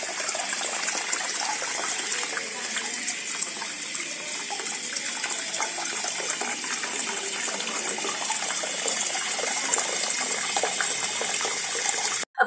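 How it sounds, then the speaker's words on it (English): Clean, non-chlorinated water pours steadily into an outdoor betta fish tank, a continuous close splashing gush that holds at an even level for about twelve seconds before cutting off abruptly, with no voices. "We fill it with clean and non-chlorinated water"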